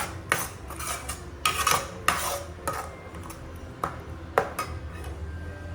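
Spinach chutney mixture being stirred in a pot, with a spoon scraping and knocking against the metal sides in irregular bursts, close and moderately loud, with faint background hum.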